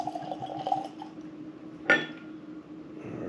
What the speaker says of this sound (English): let's go ahead and pour it and let it kind of breathe